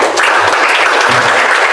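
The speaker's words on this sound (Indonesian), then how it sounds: "Tepuk tangan buat Pak Rektor." A dense, loud wave of applause rises from an audience at the opening of a youth festival in West Kalimantan, greeting the rector with continuous, crowded clapping.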